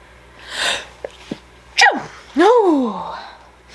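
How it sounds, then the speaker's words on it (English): A person sneezes close and loud during an indoor unboxing: a few quick breathy intakes, then a sharp burst followed by a drawn-out vocal release. "I had to sneeze"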